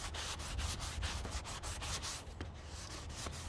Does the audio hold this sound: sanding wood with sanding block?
yes